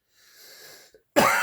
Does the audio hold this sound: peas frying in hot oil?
no